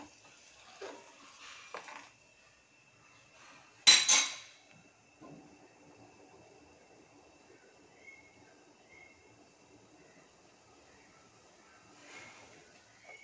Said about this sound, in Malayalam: ഇളക്കണം.